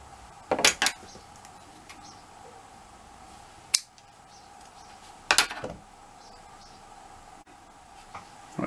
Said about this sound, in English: It won't quite fit, we'll trim a bit off.